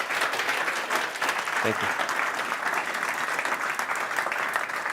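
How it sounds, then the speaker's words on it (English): Conference audience applauding a presenter after a talk on post-purchase retail, steady dense clapping throughout, with a brief spoken thanks over it. "A big applause"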